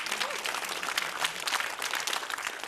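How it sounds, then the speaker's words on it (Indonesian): Audience at a televised stand-up comedy show claps briefly, a compact burst of applause that stays fairly even and moderately loud, with no talking over it. "Tepuk tangan untuk reket nyamuk."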